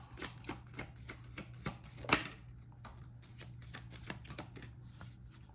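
Oracle cards being shuffled by hand in a quiet room, a steady run of soft, papery riffles and flicks with one sharper snap partway through, close and alone.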